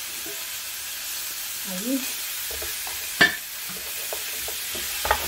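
Sofrito for a beef sancocho sizzling in a pot as it is stirred, a quiet frying hiss with a sharp clack of the spoon midway; a voice speaks briefly.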